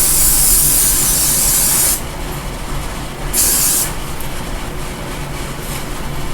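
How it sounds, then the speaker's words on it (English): Two long bursts of aerosol hairspray sprayed onto a wig hiss loudly and close, the first about two seconds, a shorter second one after a pause, over steady background noise. "And then when we're ready, we spray it"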